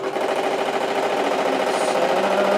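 A sewing machine runs steadily while stitching a purse seam, giving a continuous fast mechanical whir with an even rapid pulse, close and moderately loud throughout, with no talk.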